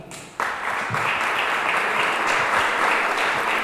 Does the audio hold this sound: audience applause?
yes